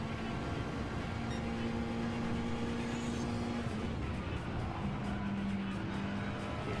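A racing car engine in Gran Turismo 7 drones steadily during a daily race at Watkins Glen, holding a sustained tone that dips and shifts as the throttle is worked through a corner.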